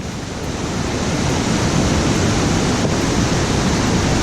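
Strongly flowing river in a Himalayan valley near Dodang campsite, heard from a local footbridge: a loud, steady roar of rushing water that swells in the first second and then holds constant.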